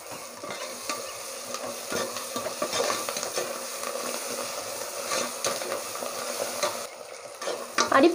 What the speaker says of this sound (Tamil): நல்லா வதக்கிடலாம்